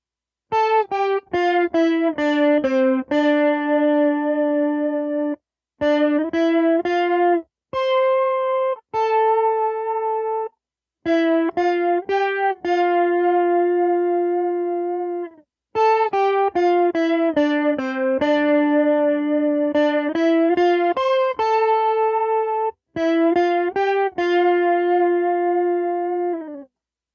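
An electric guitar plays a bright, synth-like lead with effects, fast repeated notes and sustained tones in phrases separated by short pauses, loud and close.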